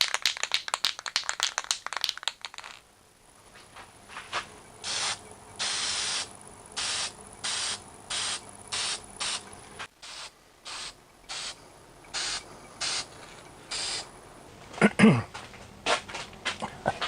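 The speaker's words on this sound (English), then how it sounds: "Got the lathe running pretty slow here. That's about 200 RPM." A wood lathe turning a cherry bowl slowly at about 200 RPM: a slow, steady mechanical whir broken by regular, evenly spaced rasping bursts, close by and moderately loud, with a short clattering at the start.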